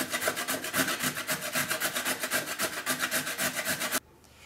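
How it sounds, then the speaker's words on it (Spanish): Peeled carrots are grated on the fine side of a hand grater in quick, steady rasping strokes, close and loud, before the scraping stops abruptly near the end. "ahora las voy a rallar por la parte del rallador que es un poco más fina"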